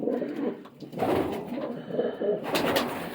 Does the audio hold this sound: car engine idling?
no